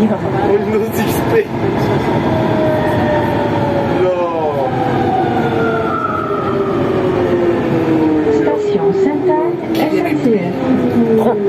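A Siemens VAL 208 metro train on the Toulouse line between Borderouge and Ramonville passes close by, a loud steady rumble with rising and falling whines and clatter throughout, while people talk over it.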